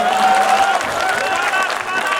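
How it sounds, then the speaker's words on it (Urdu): At a poetry gathering, an audience bursts into sustained applause, many hands clapping at once with crowd voices and faint cheers mixed in, continuous and fairly loud throughout. "ذرا تالیاں بجا کے بتا دیجئے کیا موڈ ہے۔"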